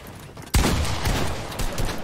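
Gunfire in a creative-mode video game, a sudden loud burst of rapid shots that starts abruptly and continues as a dense, rolling barrage for about a second and a half.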